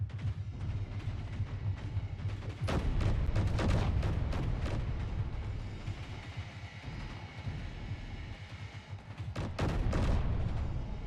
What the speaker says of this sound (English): Oh, it's shooting rockets.